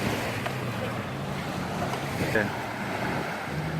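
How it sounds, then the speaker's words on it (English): Surf washing at Nuan Beach on Koh Larn Island, Pattaya, heard as a steady, loud, rushing wash mixed with wind buffeting the microphone throughout, with one short spoken word partway through. "Now going to the beach in the Kolan Island. Its name is Nuan Beach."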